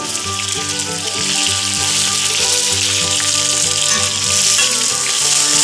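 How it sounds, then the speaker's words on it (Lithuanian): Onions and garlic sizzle and crackle steadily in a kazan on a Kamado grill while music plays underneath. "Taip, kepam mes svogūnus."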